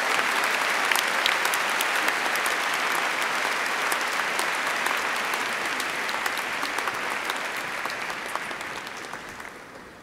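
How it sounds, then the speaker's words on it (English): Sustained applause for engineering graduates at a graduation ceremony, a large crowd clapping densely and continuously, holding strong before easing slightly toward the end, with no speech over it. "Please join me in a round of applause for the graduates."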